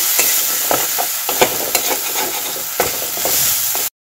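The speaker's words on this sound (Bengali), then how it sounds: "পর সমস্ত মশলা ভালো করে কষে নেব। মশলাটা 3-4 মিনিট ধরে ভালো করে কষে নিতে হবে।" Spice paste of cumin and coriander powder is stir-fried in hot oil, giving a loud, close sizzle broken by repeated scraping strokes of a spatula, then an abrupt stop.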